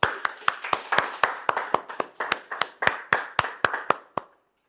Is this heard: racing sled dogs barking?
no